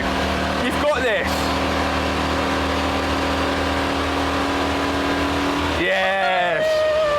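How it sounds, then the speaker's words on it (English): A Citroen Mehari's small engine labours uphill, a steady loud drone with rising revs and gear changes near the start and end, close to the microphone. "Time for a bit of uphill action. Come on Citroen, you can do it."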